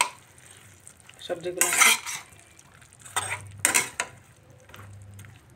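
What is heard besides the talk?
stirring vegetables with ginger and green chili in a pan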